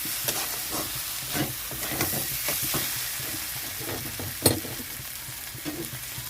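Spice masala sizzles in hot oil in a pan for a fish head curry, a steady fine crackle with soft stirring scrapes and one sharper clink, moderately quiet and without talk.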